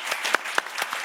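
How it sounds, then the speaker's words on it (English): Scattered applause from a conference audience closing a question session, individual claps standing out as sharp separate hits at a moderate distance, with no talk over them. "a round of applause"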